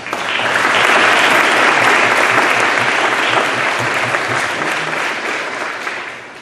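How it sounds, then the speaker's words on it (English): Members of a military affairs committee are honored with a full round of applause from the audience at a legislative luncheon, dense sustained clapping that builds quickly, holds strong, then tapers. "let's give you a round of applause"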